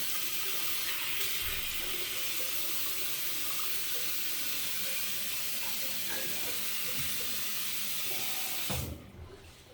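Water runs steadily from a bathroom tap while rinsing during a shave, a close broadband hiss with small splashes that stops abruptly near the end.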